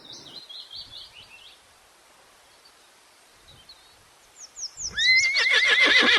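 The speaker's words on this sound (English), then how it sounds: "H. H for horse." After a few faint bird chirps and a quiet stretch, a horse lets out a loud, shrill whinny that rises and trembles.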